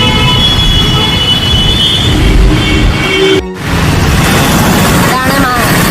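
A metro train at Maharaja's College Ground station in Kochi, a loud close rumble with a brief screech and a sharp burst midway, under a person talking.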